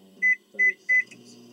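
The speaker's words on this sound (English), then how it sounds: "Stick it in the microwave." A microwave oven gives three evenly spaced high keypad beeps as it is set to heat a potato, with a low hum and faint kitchen background in between.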